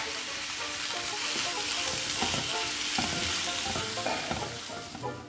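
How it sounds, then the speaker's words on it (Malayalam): Chopped tomatoes sautéing in a hot pan for prawn biryani, a steady close sizzle and frying hiss with occasional stirring scrapes running throughout, no voices. "ഇനി ഇതും കൂടെ വഴട്ടി ആ തക്കാളി ഒന്ന് ചെറുതായിട്ടൊന്ന് ഉണങ്ങി"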